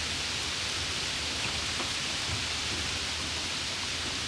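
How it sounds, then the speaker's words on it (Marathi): Heavy monsoon rain in Raigad district pours down as a steady, even hiss of dense rainfall with no breaks and no voices. "रायगड जिल्ह्यात पावसाचा जोर आहे तो वाढलेला आहे"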